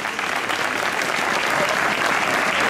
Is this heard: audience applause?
yes